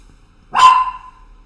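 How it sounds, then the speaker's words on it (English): A single sharp dog bark, close and loud against near silence, with a short ringing tail. "Sorry about the dog, guys."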